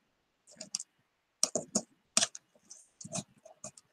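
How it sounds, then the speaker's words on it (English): Masking tape torn off in short crackly bursts and pressed onto a papier-mâché box, several quick separate rips with pauses between them, close and fairly quiet, no talking. "I'm going to start with some pieces of masking tape on this"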